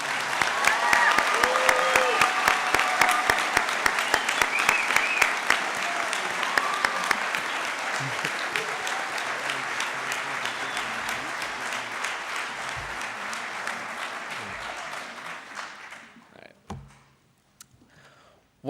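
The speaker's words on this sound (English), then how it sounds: "can we get a round of applause for the inductees" An audience at a high school National Honor Society induction ceremony applauds the inductees, a full, sustained round of clapping with a few scattered voices that gradually thins out and fades near the end.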